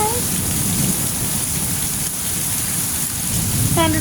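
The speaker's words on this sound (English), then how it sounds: "Thunderstorm. It's loud." Heavy rain falls steadily during a loud thunderstorm, a dense continuous hiss with low thunder rumbling underneath, and brief vocal sounds at the start and end.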